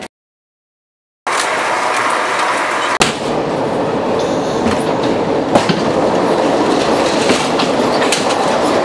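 An Amtrak passenger train rolls along the rails at low speed, a steady loud rumble with rhythmic clickety-clack of the wheels, beginning after a brief silence and holding continuously with occasional clanks and a faint wheel squeal.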